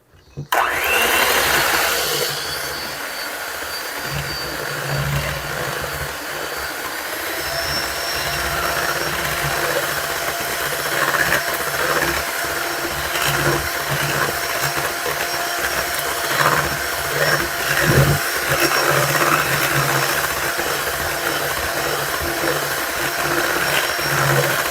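A mixer whirs steadily and loudly while pie filling is blended for Thanksgiving mini pies, a continuous machine drone holding an even level with small fluctuations and no talking.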